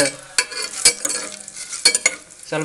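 Bay leaf and pepper fry in hot oil, crackling and sizzling close up with stirring scrapes and brief clinks in an uneven rhythm.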